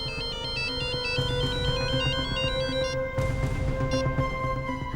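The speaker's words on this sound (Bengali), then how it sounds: "ফোন ধরো, লাউড স্পিকার অন করো।" A mobile phone ringtone plays loudly and steadily, a repeating electronic melody with a brief break near the middle before it resumes, with no voices over it.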